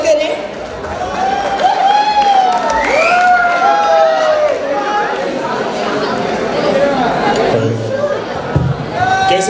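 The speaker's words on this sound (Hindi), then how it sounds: "जोरदार तालियों से इनका स्वागत करें।" A college freshers' event audience cheers, shouts and chatters to welcome a poet onto the stage, a loud sustained crowd din full of excited voices.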